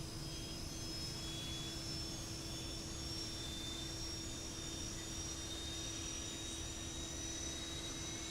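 Jet engines of a Fokker F28 airliner spinning up in Microsoft Flight Simulator 2024, a steady loud roar with a sustained low drone and rising high whine throughout, no talking.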